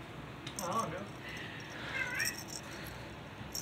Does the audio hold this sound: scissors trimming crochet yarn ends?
no